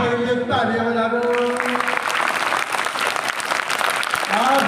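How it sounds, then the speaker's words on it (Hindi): Applause from an audience at a youth group event, clapping for their parents, a dense steady patter of many hands at close range, with a voice speaking over it at the start. "अपने माता पिता के लिए तालियां बजा दो।"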